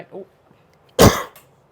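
One sharp, close cough bursts out loudly after a moment of near silence, preceded by a faint short vocal sound.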